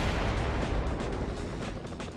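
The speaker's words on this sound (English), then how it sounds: "Shoot the drums to explode them." Drums shot in the mobile shooter Fatal Raid explode in a dense, roaring burst of blasts and rumble that fills the short stretch loudly, without speech.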